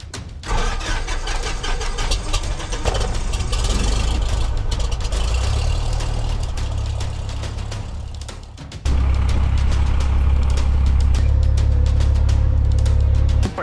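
A small propeller engine cranks, catches and roars up, then settles into a loud, steady run with a surge in power partway through.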